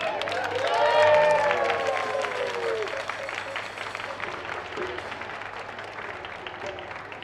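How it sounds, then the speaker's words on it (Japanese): Audience applause and cheering at a Halloween dance show in Hamamatsu. A voice is heard at the start, the clapping swells loudly near the first second, then settles into steady applause from a crowd. "どうしても皆さん大きな拍手で。"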